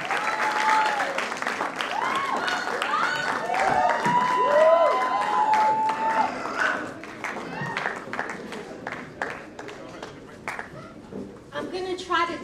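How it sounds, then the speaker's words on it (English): Audience applause fills a hall for Harmeet and Harpriya Kaur, steady dense clapping with cheers and whoops that runs throughout and thins toward the end. "So please give a big round of applause for Harmeet and Harpriya Kaur."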